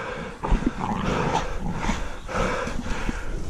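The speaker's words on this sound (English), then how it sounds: "Get them dogs. Good dogs." Hunting dogs bark and growl while holding a wild boar during a hunt, a ragged, continuous mix of snarls, yelps and scuffling, close and fairly loud throughout.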